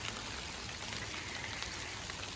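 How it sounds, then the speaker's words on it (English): Steady, faint rain falls outdoors at a ranch where fence posts are being set beside a slough, an even wash of drops with no voices. "it's raining."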